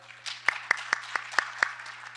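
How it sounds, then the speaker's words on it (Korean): A small audience at an international patent court conference claps for an introduced guest: a sparse run of about seven distinct, evenly spaced close claps over a low steady hum. "박수 부탁드립니다."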